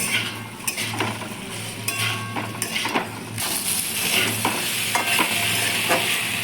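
Squash sautéing in a pan for a Bengali-style vegetarian dish, with a continuous soft sizzle broken by repeated scraping and clinking strokes of a spatula stirring against the metal.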